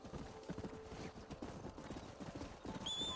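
Horses in the video game Red Dead Redemption on PS5 clop steadily in a quick hoofbeat rhythm throughout, with a whinny near the end over a busy outdoor bed.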